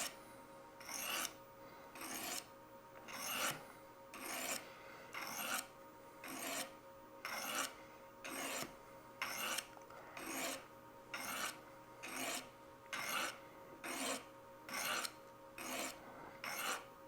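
Knife being sharpened on a DIY diamond rod sharpening system, a steady rhythmic rasping of repeated strokes about one per second, close and clear with no talk.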